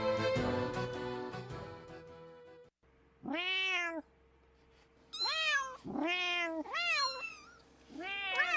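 A cat meowing close by, several distinct drawn-out meows after a brief burst of music, the calls coming in an irregular series with short pauses between them.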